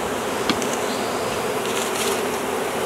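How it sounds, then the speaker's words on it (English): Honey bees buzz from a bee package outdoors, a dense, continuous hum at close range with a few brief louder passes. "now there's a few bees still left in there"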